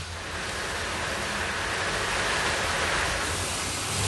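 Water rushing steadily through a tunnel screen as debris is flushed down, a loud continuous roar with no breaks.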